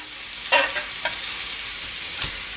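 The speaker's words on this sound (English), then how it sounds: "I'm going to start just by melting a little bit of butter" Butter melting on a skillet gives off a soft, steady sizzle with a few faint stirring clicks, close by and quiet, with no voices.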